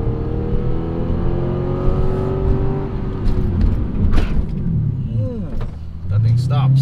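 A Lexus RC F slows hard during a brake bedding procedure, its engine note falling from a loud whir to a low rumble as it decelerates, heard from inside the car with a person talking over it.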